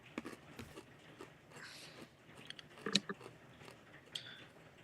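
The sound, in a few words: chewing crunchy strawberries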